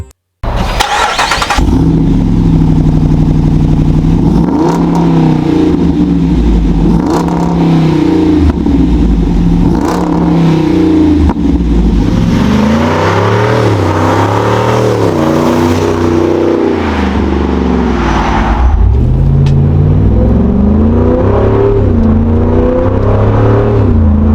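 A Jeep Wrangler 392 V8 engine with an aftermarket exhaust cranks and fires up, then idles with a deep, throaty exhaust and several loud revs that rise and fall, close and alone.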